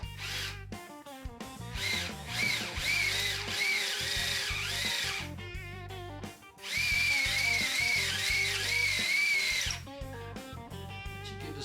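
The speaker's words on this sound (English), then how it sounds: "I'm going to drill that out." A power drill whines in long bursts, drilling out stripped holes in a Harley Shovelhead three-speed transmission, its pitch rising and falling as it bites, briefly pausing between runs, loud and close.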